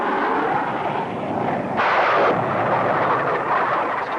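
A rocket fired from a plane at a shack makes a loud, sustained, roaring blast. It rises abruptly midway and stays dense and rumbling throughout, with no voices.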